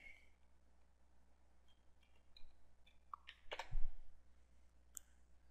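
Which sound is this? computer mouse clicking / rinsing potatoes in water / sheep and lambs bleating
computer mouse clicking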